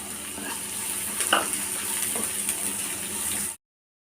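Onions, green chillies and ginger sautéing in a pan, giving a steady close sizzle and frying crackle with a few light stirring scrapes, which cut off abruptly near the end.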